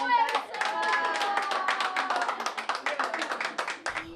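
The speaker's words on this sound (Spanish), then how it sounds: "Este aplauso es para nosotras mismos" A group of Ecuadorian women domestic workers claps together in a brisk, rapid flurry of hand claps, with voices cheering and calling out over the clapping throughout.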